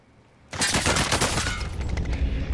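Enemy automatic gunfire in Call of Duty Warzone, shooting from a window, erupts after a short lull into a loud, sustained rattling burst of rapid shots.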